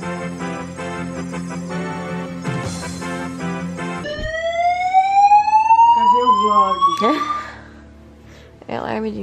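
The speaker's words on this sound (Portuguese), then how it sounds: "There has been a fire alarm reported in the building." A building fire alarm goes off loudly with a rising, sweeping electronic siren tone that cuts out abruptly near the end, while people talk over it.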